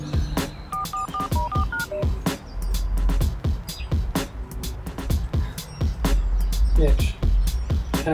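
Telephone keypad dialing tones, a quick series of short beeps near the start, followed by clicks, knocks and background noise with people talking.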